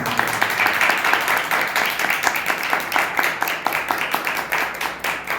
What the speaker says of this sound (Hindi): ताली बजा के प्रभु के नाम में